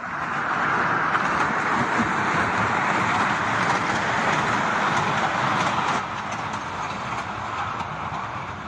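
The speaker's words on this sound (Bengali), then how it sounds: "এই যে টয় ট্রেনটা যাচ্ছে" A small toy train runs through Deul Park with a broad, steady rushing rumble close by that drops noticeably quieter partway through as it moves off.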